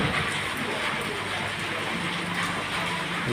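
Steady rain falls outdoors where electrical technicians are working on a line during a downpour, a continuous even hiss that stays loud and unbroken throughout.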